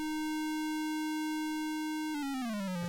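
A Moog Subharmonicon synthesizer holds a steady, buzzy low tone. Near the end the pitch glides downward, wobbling as it drops, and there is no talking.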